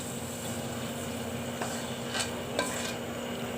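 Pork browns in oil in a pan, giving a steady close sizzle with a few short scraping stirs near the end and no talking.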